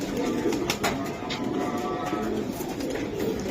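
Pigeons coo in soft repeated low murmurs at a pigeon seller's stall, with a few brighter chirps and rustles close by and faint background murmur throughout.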